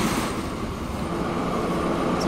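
A train pulls away in the rail-building game Transport Fever on a busy German line, giving a steady rumbling rail noise with wheel sounds, continuous and fairly loud, without any talk.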